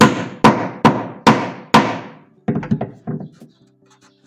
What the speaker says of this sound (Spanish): La podemos solucionar con un martillazo